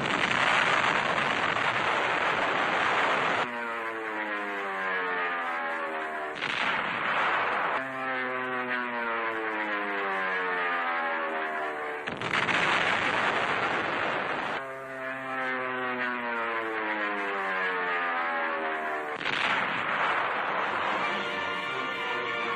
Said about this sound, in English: Now Mount Suribachi is smeared by Navy dive bombers.